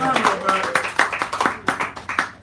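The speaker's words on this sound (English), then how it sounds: "Give him a round of applause." A few people clapping at a small café poetry reading, sparse uneven claps close by, with speech over them.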